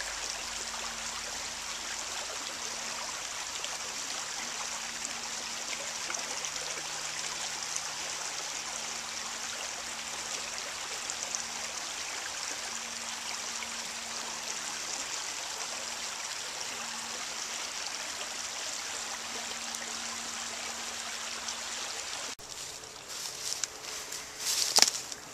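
San Pablo Creek runs as a steady broadband rush of flowing water heard from several feet above the bank, unbroken for most of the stretch, with a few louder rustles and knocks near the end.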